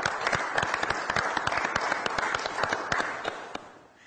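Audience clapping at a municipal political event in Florianópolis, a moderate crowd of distinct sharp claps in a quick irregular patter that fades out near the end.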